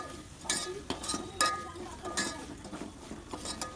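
Chilli powder and mutton masala are stirred in a pan for a mutton vajadi curry, giving soft sizzling with intermittent scraping strokes and clinks of the spoon against the pan, close by and fairly quiet.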